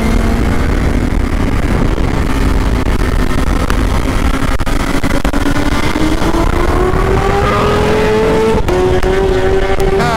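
A Kawasaki Versys 1000 motorcycle engine roars loud and continuous on the Interlagos race track, its pitch climbing steadily as it accelerates, with no speech over it.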